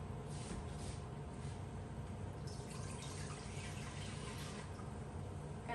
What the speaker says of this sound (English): I'm just going to pour the stock in the pot.